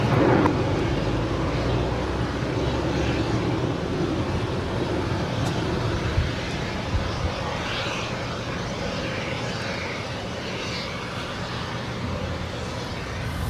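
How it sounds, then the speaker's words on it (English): An American Airlines Boeing 737-800 jet bound for Nashville at Los Angeles airport gives a steady, loud, broadband engine roar on the runway. The roar holds constant throughout with a deep rumble, and no voices are heard. "That was American Airlines Flight 1116 heading to Nashville, Tennessee, in the 737-800."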